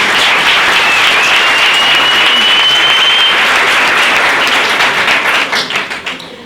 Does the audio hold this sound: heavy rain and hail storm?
no